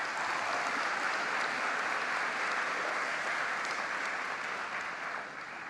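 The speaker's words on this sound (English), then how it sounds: "Can we give a round of applause for Ms." Steady applause from an audience, a dense wash of clapping that holds for several seconds before easing slightly at the end.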